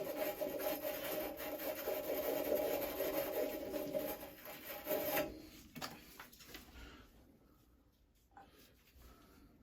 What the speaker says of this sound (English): When you clean a fitting, clean it completely